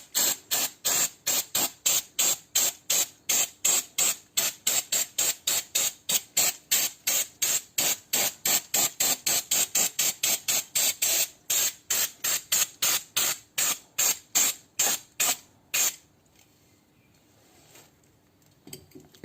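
Brake cleaner sprayed onto the brakes of an abandoned, half-restored Mini Cooper: a long run of rapid, evenly spaced hissing bursts for about sixteen seconds, close and loud, then stopping into quiet.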